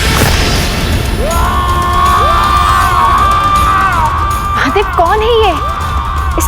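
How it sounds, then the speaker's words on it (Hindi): Loud anguished wailing scream of the demon king Ravana in a Ramayana devotional drama, a sustained rising and falling cry over dense dramatic music and crowd-like clamor, continuous for several seconds. "इसके रुदन से मेरे कानों में पीड़ा हो रही है, रोकिए इसे।"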